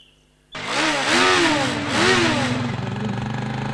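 A motorcycle engine starts up abruptly and revs twice in rising and falling surges, then settles into a throbbing, pulsing idle, close and loud with no talking.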